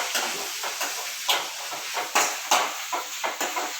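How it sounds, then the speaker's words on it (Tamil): Pirandai (adamant creeper) sautéing in a pan for chutney, a steady close sizzle and hiss broken by repeated rhythmic scrapes and stirring strokes, with no talking. "எல்லாம் மொத்தமாக போட்டு நல்லா வதக்கணும்."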